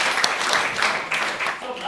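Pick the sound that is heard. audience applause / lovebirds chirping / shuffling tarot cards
audience applause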